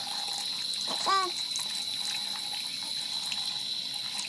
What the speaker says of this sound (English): take your sink, put on some warm water